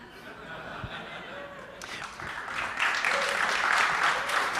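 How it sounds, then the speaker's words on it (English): A live audience at a conference panel breaks into clapping, starting faint and swelling into fuller applause with a few chuckles mixed in. "Applause."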